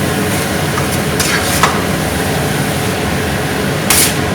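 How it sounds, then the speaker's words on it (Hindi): Chopped red onion stirred into sizzling tawa qeema, a steady frying hiss with a few sharper scrapes of the spoon against the pan, close and continuous. "ये चॉप प्याज, लाल प्याज चॉप, इसको भी मिक्स करेंगे।"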